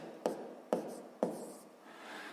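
Chalk or pen writing during a sixth-grade math lesson: three short, sharp tapping strokes about half a second apart, fairly quiet and close, followed by a soft brief scrape, with no talk.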